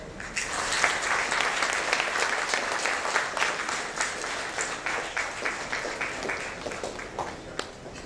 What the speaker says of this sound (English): May I request an applause